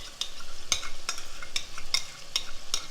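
A yogurt mixture is stirred into eggplant bharta cooking in a pan, with a steady sizzle under repeated scraping clicks of a spoon against the pan, close and continuous with no talking.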